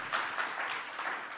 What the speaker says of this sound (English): Round of applause for both Dave and Brian.